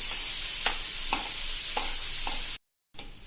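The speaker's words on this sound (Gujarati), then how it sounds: "2 નાના ટમેટા લઈને એકદમ ઝીણા સમારી લીધા છે એ નાખી દેશું। એને પણ આપણે થોડાક સાંતળી લેશું।" Two small, finely chopped tomatoes sauté on a hot tawa for masala pav under a steady sizzle. About four distinct spatula stirs and scrapes are spaced evenly, then the sound cuts out briefly before the sizzle returns.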